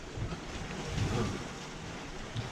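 A Mahé 36 catamaran sails at about five knots in a 13-knot beam wind, side by side with a monohull. Steady wind rush and water wash roll on continuously, with a slight swell around the middle.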